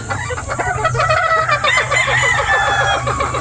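SBR cross breeder chickens on a farm cluck steadily in a close, dense chorus while a rooster crows through the middle, over a constant background hum.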